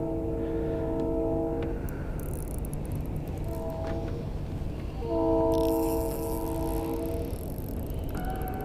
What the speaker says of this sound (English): we got the best audio in the world with the train in the background